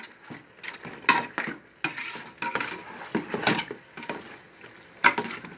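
A spoon scrapes and stirs through a pot of frying egusi, irregular clattering strokes over a soft sizzle, close by with no voices.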